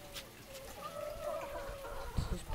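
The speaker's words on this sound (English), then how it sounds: "Here are the chickens" Backyard chickens, including a hen named Orpy, make soft rising clucks and a short warbling call close by, faint against low background noise.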